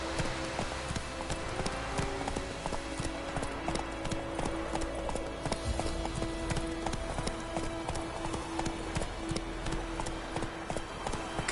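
Roach, Geralt's horse in The Witcher 3, gallops with rapid, rhythmic hoofbeats pounding steadily and close throughout, over a constant outdoor game ambience with no voices.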